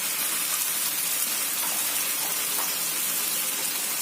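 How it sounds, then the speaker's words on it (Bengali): Hot water poured into spiced potato curry in a pan, a steady broadband rush and gush of liquid, close and continuous, with no talk. "ওটা আমি একটু গরম জল দিয়ে দিই।"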